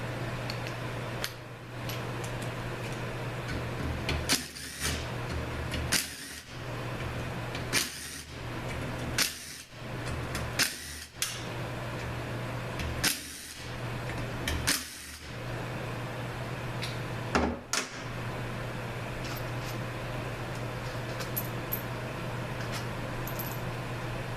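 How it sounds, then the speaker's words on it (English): Bolts are removed from the front pump of a 722.9 automatic transmission using a ratchet with an extension, producing scattered sharp clicks and brief metallic ratcheting bursts over a steady background hum. "now we're gonna get the bolts out of the pump body and gears. Let me get a little extension here"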